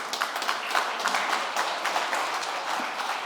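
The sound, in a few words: audience applause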